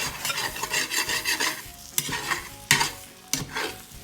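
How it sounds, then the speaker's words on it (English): A spatula stirs and scrapes shrimp filling across the bottom of a cast iron pan, gentle sizzling under brisk rhythmic scraping strokes with a few sharper metallic scrapes, close up and without talk. "Make sure you're scraping the bottom, because even cast iron, if you don't take care of it, it can stick."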